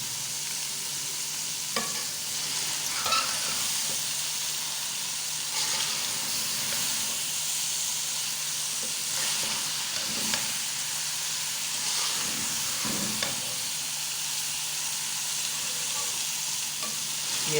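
Lentils (lobia daal) with finely chopped green chillies frying in a pan while being stirred, a steady loud sizzle and hiss with periodic scraping stir strokes, no talking.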